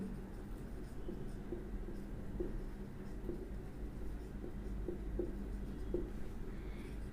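Pen or pencil writing out a quadratic equation by hand during a class 10 algebra lesson, a steady faint scratching with soft periodic strokes continuing throughout, close and quiet.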